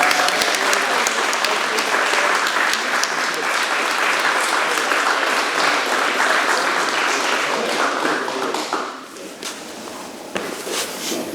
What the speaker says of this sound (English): Luke, give him a round of applause, guys.